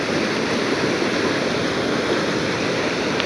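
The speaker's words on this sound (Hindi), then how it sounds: "पानी काफ़ी तेज़ से बह रहा है।" Fast-flowing river water rushes in a steady, dense roar at a crossing point, loud and close with no pauses and no voices.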